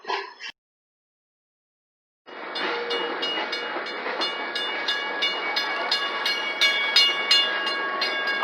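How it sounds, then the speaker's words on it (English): Hobo Railroad excursion train in Lincoln, New Hampshire drawing into the station: after a brief sound and a short silence, steady rolling rumble and wheel noise with repeated metallic clicks and squeals, close and continuous. "the train is now approaching the station"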